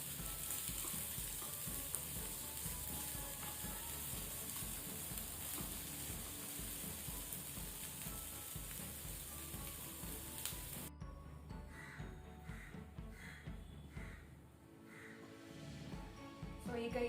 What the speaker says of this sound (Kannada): ಸೊ ಇದನ್ನೀಗ ಲೈಟ್ ಬ್ರೌನ್ ಆಗೋ ತನಕ ಫ್ರೈ ಮಾಡಬೇಕು.